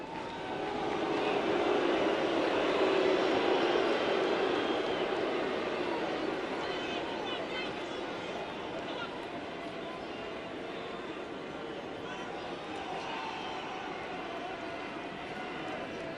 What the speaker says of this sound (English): More planes going overhead here as part of the air show in downtown Toronto.